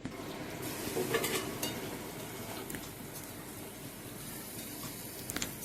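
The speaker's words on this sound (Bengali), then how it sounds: "সব সবজিগুলোই কিন্তু এই তেলেই খুব সুন্দরভাবে ভাজা হয়ে যাবে" Vegetables sizzle in fish oil in a pan with a steady, quiet frying hiss, broken now and then by soft clinks from stirring.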